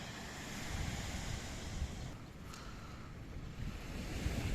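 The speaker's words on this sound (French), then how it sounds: "Aujourd'hui, on a été à la plage avec Bibi." Waves and wind at a beach by the sea make a steady, fairly quiet rushing wash with broad rumbling wind noise on the microphone, continuous and unbroken, and no one speaks.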